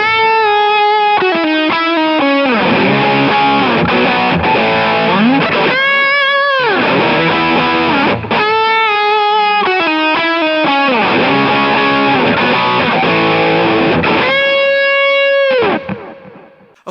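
An electric guitar played through a Kemper Full OC drive with gain around 7 gives heavily distorted, saturated chords and sustained bends in loud repeated phrases, with no voices, before cutting off at the end.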